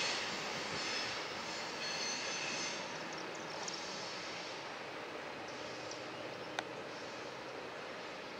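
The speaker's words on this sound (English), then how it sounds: "But what the heck? It's a train." A train passes in a steady broad rumble with a faint high whine, holding loud and even before easing slightly, with one brief sharp click near the end and no voices.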